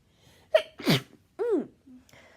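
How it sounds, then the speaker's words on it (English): A single person's sneeze, a sharp intake followed by a loud explosive burst and a short trailing vocal sound, close and clear against near silence. "before I got interrupted by that sneeze"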